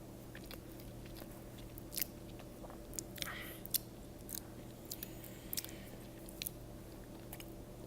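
Someone bites and chews a piece of burnt toast close to the microphone. Sparse, sharp crunches come over a steady low background hum, with no talk.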